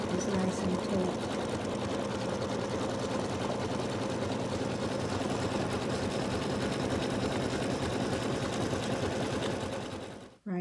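An embroidery machine stitches out an in-the-hoop Santa bib on taut fabric. It runs with a steady, fast mechanical whir and needle chatter for about ten seconds, then abruptly stops.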